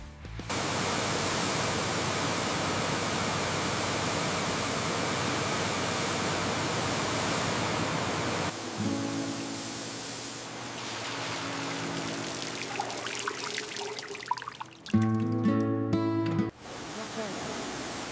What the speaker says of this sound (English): Time to hit them with the pressure washer.